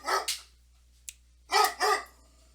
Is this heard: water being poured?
no